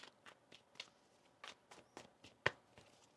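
Tarot cards are shuffled by hand, a series of crisp riffling snaps at irregular intervals, close and clear with one sharper slap near the end; no one speaks.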